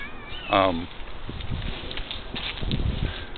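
A single short meow from a house cat near a parked 1997 Volvo 850R, followed by faint shuffling and soft movement noises.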